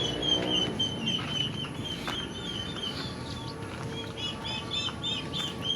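Chickens cluck and chirp in short, scattered calls over a steady background hum, several birds close by on a farm.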